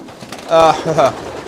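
Pigeons in a loft give two short, near coos, audible over a low background murmur.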